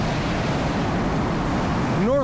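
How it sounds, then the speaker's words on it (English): Broad, steady roaring rush of Farrington Reserve waterfall in Ohio, swollen after heavy April flooding rain, loud and close with wind noise on the microphone throughout. "This is the Farrington Reserve Waterfall."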